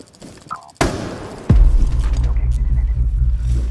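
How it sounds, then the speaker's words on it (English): A flashbang grenade in Rainbow Six Siege bursts with a sharp crack, followed by a heavy booming impact and a sustained low rumbling roar that lingers to the end. "Throwing flashbang."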